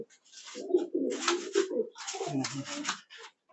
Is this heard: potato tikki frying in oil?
no